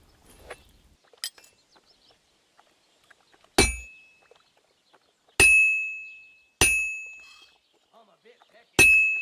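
Hot metal is hammered on an anvil in the Kingdom Come Deliverance blacksmithing game: a few light taps, then four loud ringing clangs spaced about two seconds apart, each with a long metallic decay.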